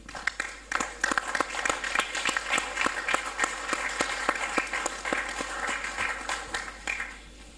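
A general assembly hall full of delegates claps steadily for several seconds after adopting the agenda, sustained applause that fades out near the end.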